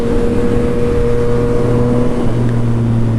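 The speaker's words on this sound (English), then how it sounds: "Definitely a unique sounding bike, that's for sure." A Yamaha FZ-09 (MT-09 style) motorcycle engine runs steadily at close range, a loud, continuous droning hum with a slight rise in revs toward the end, heard alone.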